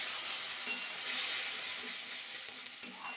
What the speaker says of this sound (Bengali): আদা, জিরে, শুকনো লঙ্কা গুঁড়ো, কাশ্মীরি লঙ্কাটা গুঁড়ে রেখেছিলাম সেই পেস্টটা এবার দিয়ে দেবো। ভালো করে কষিয়ে নেব।